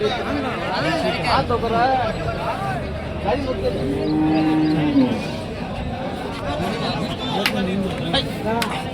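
A busy outdoor crowd chatters at a cattle market selling HF heifers over a steady background din, with cattle lowing through the babble and a long moo in the middle.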